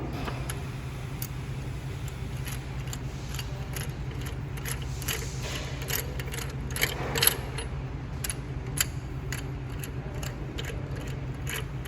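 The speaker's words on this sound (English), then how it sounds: "So you're gonna wanna pop these two bolts off right here." Wrench or ratchet clicks and metallic taps while loosening the main bearing cap bolts on an engine, a steady run of short mechanical clicks close up over a constant low hum, no talking.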